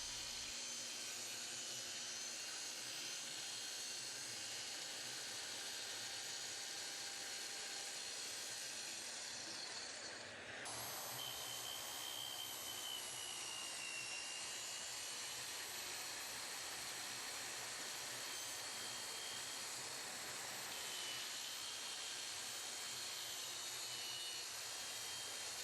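A DeWALT track saw making plunge cuts along a zero-clearance track edge, a continuous high whine and hiss of cutting that runs steadily throughout with a small shift in pitch partway through, no voices.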